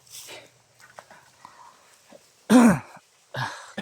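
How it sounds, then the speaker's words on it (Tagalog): A person coughs once, hoarse and close, after some soft murmured talk, followed shortly by a shorter throaty sound. "Grabe yung ubo ko ba?"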